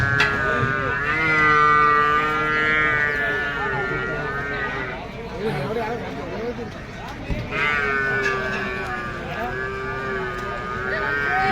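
Jafarabadi buffaloes at the Erragadda livestock market give two long, deep, drawn-out moos close by, separated by a stretch of murmuring market background.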